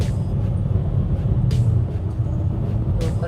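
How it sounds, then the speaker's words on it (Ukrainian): A 19-year-old single-turbo Mercedes ML accelerating at full throttle from inside the cabin: a steady, dense low rumble of engine and road noise, loud and continuous, with a few brief rattles. "Оце у мене тапок в пол. Типа ми розганяємося"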